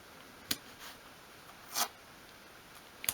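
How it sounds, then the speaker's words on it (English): Masking tape is pulled off the roll and pressed down while building a 1/12 scale miniature craft shed corner desk: three short, close, quiet rasping strips separated by near silence. "And then just pop the masking tape on there."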